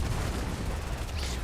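An explosion in the Fortnite video game, heard as a dense, continuous low rumble and crackle that stays loud and steady throughout, with no voices.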